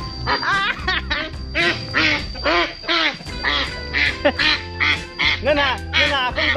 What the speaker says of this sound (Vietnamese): Ơ, vịt á?